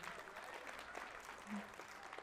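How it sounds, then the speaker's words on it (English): Faint applause from a small audience at a talk, a brief patter of clapping heard from some distance, with voices mixed in. "Everyone give Ray a round of applause for handing out candy."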